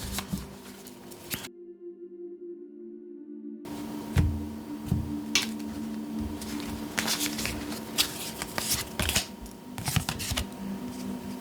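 Oracle cards shuffled and drawn by hand during a tarot-style reading, a steady run of close, papery riffling and flicking with sharper snaps between them, after a brief silent gap.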